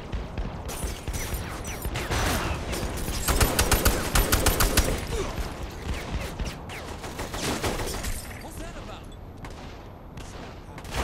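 Dense gunfire in the video game Saints Row The Third Remastered: rapid, overlapping shots and bursts peaking in the middle, with a voice talking over the action.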